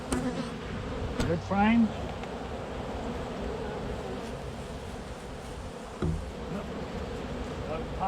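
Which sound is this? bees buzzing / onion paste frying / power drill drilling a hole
bees buzzing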